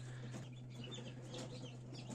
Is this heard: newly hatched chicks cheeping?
yes